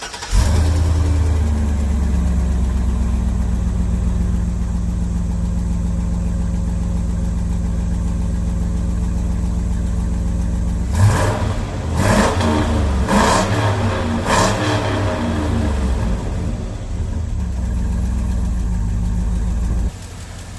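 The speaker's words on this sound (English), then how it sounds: "we're going to take a listen to what the engine sounds like" A 2005 Chevy Silverado 2500HD's 6-liter Vortec engine, high-mileage, idles steadily with a deep, even rumble, then revs up in a few sharp bursts before settling back to idle.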